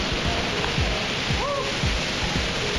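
Waterfall at the end of a forest trail in the Bolivian Amazon near the Río Beni: a constant, dense roar of falling water, loud and close, masking small bird calls.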